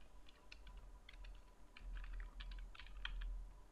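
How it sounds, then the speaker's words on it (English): An email address typed on a computer keyboard: a steady run of light, rapid key taps, fairly faint and close over a low background hum, with no talking. "Type your email."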